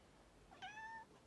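A cat gives a single short, rising meow, faint and close, against quiet room tone.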